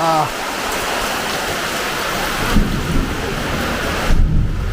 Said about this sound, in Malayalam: ഇടി മഴ ഇടി